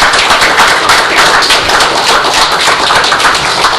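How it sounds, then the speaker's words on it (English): Loud, dense applause from an audience at a township meeting, steady sustained clapping from many hands filling the room without pause. "let's give them a round of applause."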